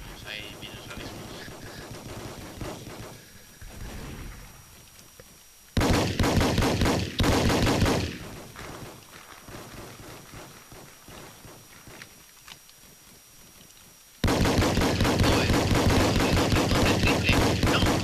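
Gunfire in the Roblox game Battlefield comes as bursts of rapid automatic shots, first a scattered run of shots and then two loud sustained volleys later on, with talk and footsteps mixed in between.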